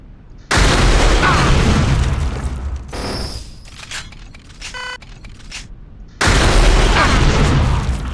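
Alternative fire from a weapon in a pre-alpha build of Unreal Tournament: two loud, sustained roaring bursts at the start and the end, with quieter beeping and electronic tones between them and no talking.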